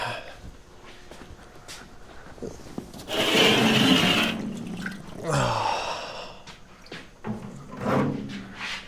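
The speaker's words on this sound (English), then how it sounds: "Dump some oil out." Engine oil pours out of a diesel engine's oil bath in a gushing, splashing rush lasting about a second, followed by drips and handling noises from the part nearby.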